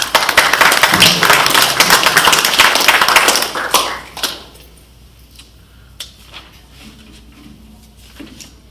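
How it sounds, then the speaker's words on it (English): Applause from the audience at a quarterly community meeting, a dense round of clapping lasting about four seconds before it fades into a few scattered claps and quiet room noise. "how about a round of applause?"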